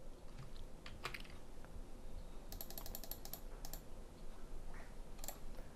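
Keys clatter on a computer keyboard in scattered bursts of quick clicks with pauses between, faint and close in a quiet room, no voices present.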